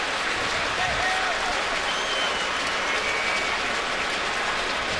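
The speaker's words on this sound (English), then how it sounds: "now hearing the applause from the crowd" Stadium crowd at an NFL football game between the Bills and Jets, steady broad applause and crowd roar filling the whole stretch, loud and continuous without clear breaks.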